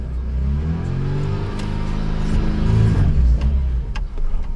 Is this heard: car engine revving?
yes